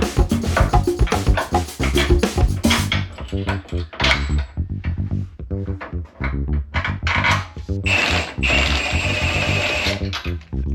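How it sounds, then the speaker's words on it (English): A wrench or impact gun torquing the passenger-side upper control arm bracket bolts on a long-arm suspension install, giving bursts of rapid mechanical ratcheting and whirring in quick, close repeated runs. "we'll go ahead and torque these down for our upper control arm bracket on the passenger side"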